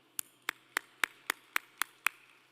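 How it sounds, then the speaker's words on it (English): Eight sharp, evenly spaced claps ring out alone at an awards ceremony, each one crisp and distinct with short gaps between, fairly quiet in an otherwise still room. "I think we should all show our gratitude for their commitment to our association, this industry, and our communities by a round of applause."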